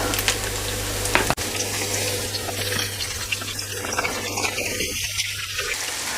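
Chicken pakora frying in hot oil, a steady close crackling sizzle that runs throughout, with a brief sharp clink of a utensil early on.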